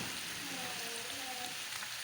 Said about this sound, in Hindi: सारे शलजम इसमें डाल देंगे, और इनको अच्छे तरीके से हमने अब भूनना है